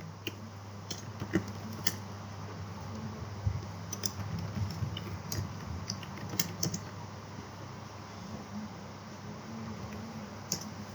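Code is typed on a computer keyboard in a quiet room: irregular, fairly soft key clicks and taps come in small bursts, close to the microphone, over a low steady hum with no talking.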